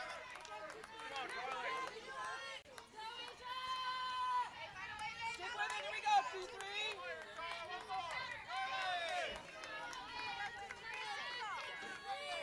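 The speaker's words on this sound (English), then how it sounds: "Crowd trying to will Carly Moore on." At an NAIA softball game, the crowd chatters and calls out to urge on pitcher Carly Moore, a busy spread of voices and shouts held at a moderate, fairly distant level throughout.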